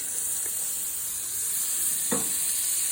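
Butter and pink salt stirred in a very hot cooking pot for homemade popcorn, a steady sizzle and hiss throughout with a couple of brief scraping stir strokes, fairly close and without talk.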